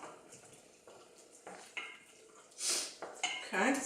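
Black pepper stirred into simmering orzo risotto: quiet clinks and scrapes of a spoon against the pot over a soft simmer, growing louder toward the end, with faint speech in the background.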